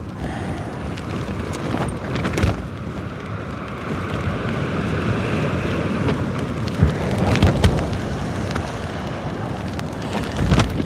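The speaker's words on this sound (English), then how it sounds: "It's a little bit breezy at the moment." Breezy wind at sea during kayak fishing buffets the microphone in a continuous loud rumble with gusts and occasional knocks from the kayak, and no clear speech over it.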